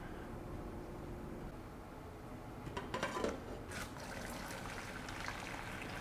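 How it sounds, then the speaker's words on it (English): Boiled potato water draining from a pot, a soft continuous trickle and pour with a brief louder splash and clatter of the pot partway through, quiet and close. "We're gonna start by draining the water."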